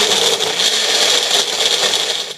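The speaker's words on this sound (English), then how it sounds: "Now we're going to blend that all together." A blender whirs steadily, blending a green smoothie of kale, yogurt and berries, with a loud, continuous motor hum and churning rattle throughout, close to the microphone and with no talking.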